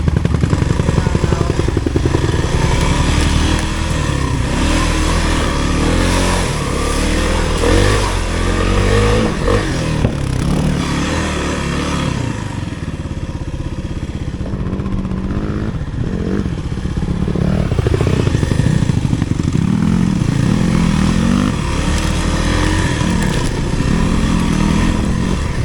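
Kawasaki KLX300R dirt bike engine revving hard while ridden, loud and close, its pitch rising and falling through throttle blips and gear changes, with clattering from the bike over rough ground.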